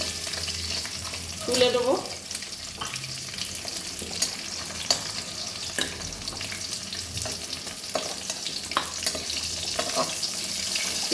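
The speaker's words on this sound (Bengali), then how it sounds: "আমি অনেক দূরে থেকে ভাজছি মাছটা, পটপট করে ফাটছে খালি।" Rohu fish head frying crisp in hot oil in a Bengali kitchen, a steady sizzle with scattered popping crackles throughout, briefly covered by a few spoken words near the start.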